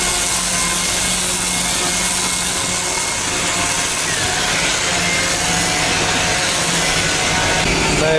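Sawing wood in a Chinese furniture factory in Foshan, a continuous loud rasping roar of machine cutting with dense industrial noise throughout, no talking.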